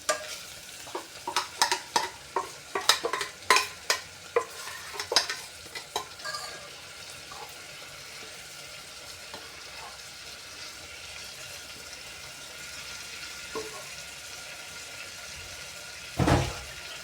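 Spiced masala for Kerala-style mutton curry is stirred and fried in a pan, with a burst of scraping stirring strokes for the first six seconds, then a steady soft sizzle and one louder scrape near the end, with no talk.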